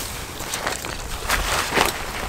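Strong wind buffets a mountain campsite in high winds, a loud continuous rushing roar with gusty surges close to the microphone, no voices.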